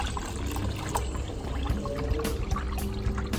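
Coolant is poured into a car's cooling system as it is topped up while bleeding air, making a steady, soft trickling and splashing stream that runs continuously at close range.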